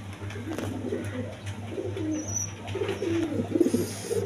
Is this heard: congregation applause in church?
no